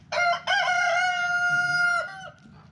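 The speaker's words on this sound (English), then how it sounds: "Chickens." A rooster crows loudly and close by in a farmyard where goats are fed, one long drawn-out call followed by a short trailing note, with no talk.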